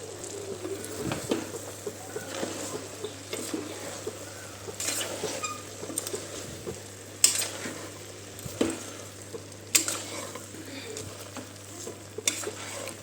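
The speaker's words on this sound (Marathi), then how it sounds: "सर्व भाजी अगदी हलक्या हाताने मिक्स करून घेत आहे मी" Mixed vegetables with grated fresh coconut and eggplant being gently stirred and folded in a pan for a traditional Makar Sankranti dish, giving soft continuous scraping and light sizzling with occasional sharper utensil taps against the pan.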